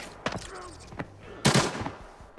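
Bot gunfire in the shooter game Arena Breakout: three or four sharp, separate shots at uneven intervals over a low background, with the loudest near the middle of the clip.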